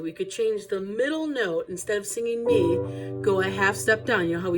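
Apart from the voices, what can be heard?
No everyday noises stand out.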